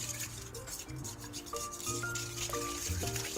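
Oil and egg yolks are stirred in a bowl for croissant-style pastry dough, giving a steady close-up scraping and rubbing sound that continues without pause, with faint clinks of the utensil against the dish and no talking.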